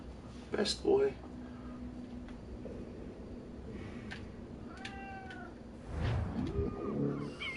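A pet cat meows a few times at close range, short calls rising and falling, while a person at home repeatedly imitates the meows back and speaks softly to the cat over a low background hum.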